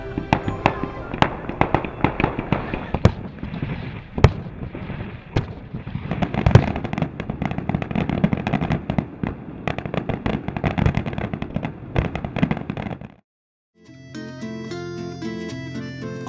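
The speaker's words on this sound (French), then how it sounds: "le défilé se clôture par un beau feu d'artifice" Fireworks close an August 16 Madonna procession in Trapani, Sicily: a dense, continuous barrage of booming bursts and crackles, loud and sustained for about thirteen seconds before stopping abruptly, followed by music.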